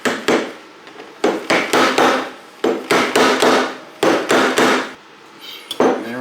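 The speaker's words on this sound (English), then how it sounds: "get it somewhat squared up before you just go hammer it on, but you don't want to scratch into your fork tube." Close, loud hammer blows drive a chrome cap onto a motorcycle fork tube on a 1991 Harley FXRS Convertible. They land in quick bursts of three or four sharp metallic knocks, with short pauses between the groups.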